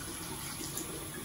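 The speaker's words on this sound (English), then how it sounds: "turn on the faucet and wet your hands with water" Water runs steadily from a faucet onto hands at a sink during handwashing, a continuous close splashing rush with no pauses and no voices.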